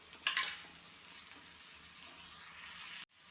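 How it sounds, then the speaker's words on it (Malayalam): Onions and tomatoes sautéing together in a pan, a steady broadband sizzle with a brief burst of stirring scrapes near the start, holding evenly until it cuts off abruptly. "ഉള്ളിയും തക്കാളിയും നല്ലതുപോലെ വഴണ്ട് മിക്സായി വരണം."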